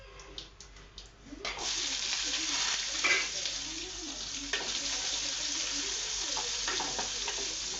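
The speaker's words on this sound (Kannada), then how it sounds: "ಉಳ್ಳಾಗಡ್ಡೆನ ಚೆನ್ನಾಗಿ ಹುರ್ಕೋಬೇಕು." Onions fry in a pan of oil with cumin and garlic, giving a close, continuous sizzle that swells after the first second and carries scraping stirs throughout.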